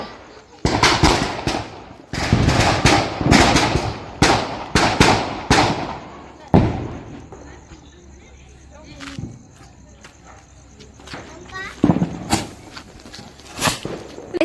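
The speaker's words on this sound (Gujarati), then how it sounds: "હું ફોડવા ગઈ મારે કીધે ન ફૂટ્યો એક જ ભડાકો થયો જો હાથે." Diwali firecrackers burst nearby in a rapid run of sharp, loud bangs for the first several seconds, then a quieter stretch with scattered pops and a few more close blasts near the end, with people talking in between.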